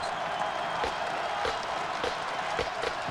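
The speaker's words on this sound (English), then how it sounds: "Crowd trying to help the BC defense on 3rd down" A college football stadium crowd roars steadily as Boston College's defense lines up on third down, a broad distant wash of cheering and noise with scattered claps and no voices up close.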